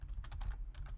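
Rapid typing on a computer keyboard during a command-line session, a steady run of close, crisp key clicks in short bursts over about a second with no voices.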